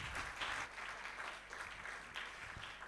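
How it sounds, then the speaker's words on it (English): Audience applause fills an anniversary celebration and general meeting hall, a steady wash of clapping from a crowd lasting a few seconds without talk. "A round of applause for him."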